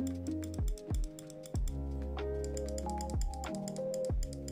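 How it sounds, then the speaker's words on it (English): A Logitech G305 wireless gaming mouse has its left and right buttons clicked repeatedly, a run of crisp, close, evenly spaced clicks with no talking. "Then you have the left click and the right click, which I will give you some samples of the clicking"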